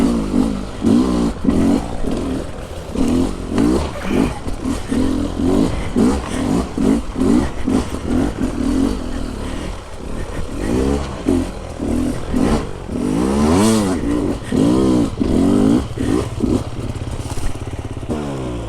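A hard enduro motorcycle ridden on a test ride, its engine rising and falling in repeated revving bursts with rattling clatter, loud and fairly close throughout with no talk.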